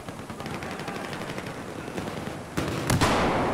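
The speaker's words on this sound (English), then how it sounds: "a shotgun." Gunfire in the video game Battlefield 4, a rattling run of rapid shots followed by two louder booming blasts near the end, no talking.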